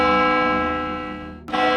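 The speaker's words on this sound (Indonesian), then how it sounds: "Itu suara lonceng gereja yang disusul sama suara paduan suara yang sayup-sayup itu" A church bell rings at night, its long tonal strike decaying slowly before a second bright strike sounds near the end, clear and fairly loud with no voices.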